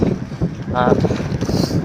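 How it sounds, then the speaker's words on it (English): Strong headwind buffets the microphone of a bicycle rider in Shikoku, Japan, in a steady roar with rising gusts, mixed with a brief voice-like tone. "some of these gusts are definitely way stronger than that, and like pure headwind"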